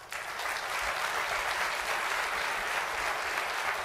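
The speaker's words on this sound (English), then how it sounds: "Big round of applause for those guys." Big round of applause from the audience at a professional conference show, dense continuous clapping from many hands that holds steady throughout.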